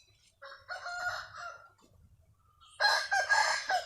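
Home-bred Mushki rooster crowing twice close by, a long strained call followed after a pause by a second louder crow, against a quiet background.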